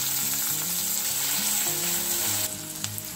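Finely chopped onion fries in hot oil with cumin seeds, giving a loud, dense, close sizzle that holds steady and eases slightly toward the end, with no talking.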